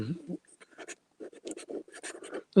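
Steel pen nib scratching across paper during a writing test, giving short bursts of dry scraping strokes with brief pauses between them, fairly close and moderately quiet.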